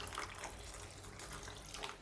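Water pours in a steady, hissing stream with a faint splashing texture, continuous from start to finish.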